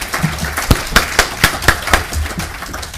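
Audience applause at a talk or presentation sounds as a run of slow, evenly spaced claps, fairly close and moderately loud, without a full crowd ovation.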